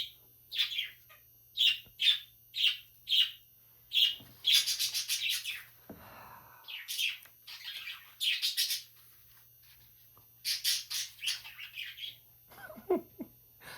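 Pet birds chirp and squawk indoors in quick repeated bursts of bright, close tweets, with short pauses between flurries and no talking.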